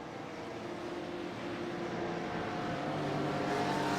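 Pace car lapping the Sebring circuit in a GTE/GT3 racing video game, a steady engine drone that builds slightly in loudness, with no voices.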